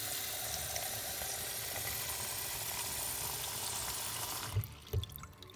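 Water running steadily into an Aqua Flame unit, a continuous close pouring hiss that cuts off near the end, followed by a few soft knocks and drips.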